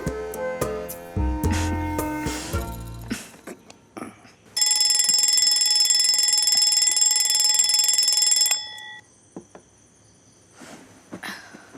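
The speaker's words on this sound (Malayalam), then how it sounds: "ഞാൻ അലാറം വയ്ക്കും." Alarm clock ringing, a loud steady electronic tone lasting about four seconds after a burst of clattering, then cutting off to quieter scattered sounds.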